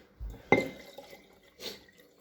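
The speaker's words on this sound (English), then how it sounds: "I'm going to add some water to it" A short splash of water poured into a peach mash for brandy, then a brief second trickle, fairly close and quiet.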